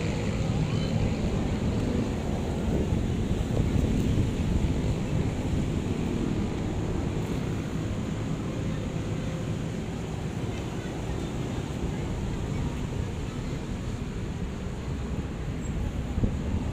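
Strong wind roars steadily across the microphone, a continuous broadband rush with low buffeting throughout.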